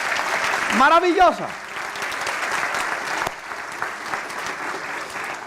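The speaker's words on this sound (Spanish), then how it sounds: "denme un aplauso al Señor" A church congregation applauds during a Spanish-language sermon, a steady wash of clapping running through the whole stretch while the preacher keeps speaking over it.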